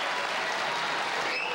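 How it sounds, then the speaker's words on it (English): Studio audience applause on a late-night talk show, a dense steady roar of clapping hands filling the short moment, loud and sustained without voices standing out. "it's really amazing you're going to applaud like that without using your hands"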